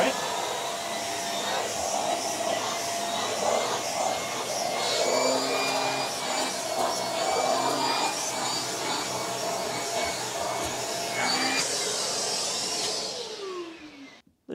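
A Shark DuoClean PowerFins upright vacuum runs with its included turbo nozzle, giving a steady, fairly loud whirring roar close by that holds for most of the stretch and then shuts down abruptly at the end.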